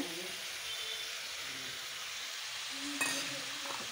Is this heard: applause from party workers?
no